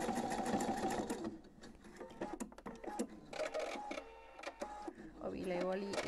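A sewing machine stitches a buttonhole in one step, whirring in rapid mechanical bursts with pauses and shifting motor tones. Close and fairly loud, with faint talk mixed in.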